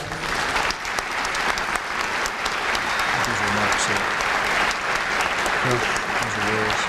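A crowd at a Hall of Famous Missourians induction ceremony claps steadily and fairly loudly throughout, a dense wash of applause with a few voices faintly audible underneath.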